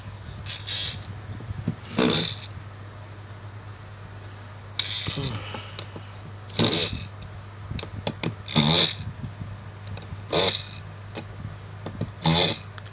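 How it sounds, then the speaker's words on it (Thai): An electric screwdriver drives screws out of an Oppo A5 2020 phone that keeps shutting off, giving short whirring bursts every couple of seconds at close range over a constant low hum, with no talking. "ไปเราก็จะ ยิงน็อตกันครับ"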